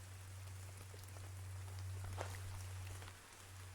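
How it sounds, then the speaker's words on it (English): Rain falls steadily and drips onto nearby surfaces, a soft continuous patter with scattered individual drops under a low background hum. "with all the goddamn rain dropping in the background"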